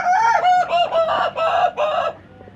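Chickens cackle in a series of loud, close, rhythmic squawking bursts about every half second, ending abruptly after two seconds, with no voices.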